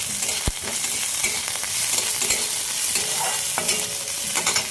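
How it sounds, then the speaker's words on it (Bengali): Chana dal and urad dal fry with ginger and garlic in a pan, a steady close sizzle broken by the scrape and knock of a stirring spoon every second or so. "দিয়ে অল্প একটু ভাজা ভাজা করে তাতে দেব আদা রসুন"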